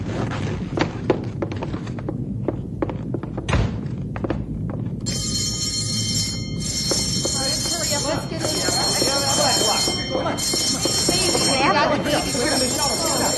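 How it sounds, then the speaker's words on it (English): A radio-drama avalanche: a deep, continuous rumbling roar that swells and grows louder, with a high ringing alarm layered over it partway through and dramatized voices around it. "Avalanche! No, it can't be."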